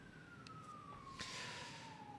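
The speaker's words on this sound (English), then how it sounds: "And there's a siren outside." A siren wails outside, distant and faint, its single tone sliding slowly downward beneath a steady background hum, with a couple of small clicks and no talk.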